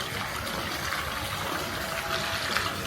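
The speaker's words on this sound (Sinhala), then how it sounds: "ටබ් එකට වතුර පුරවන්න මෙතන." Water from a tap pours into a tub at a Bali site with a pool, making a steady, soft gushing fill with no talk over it.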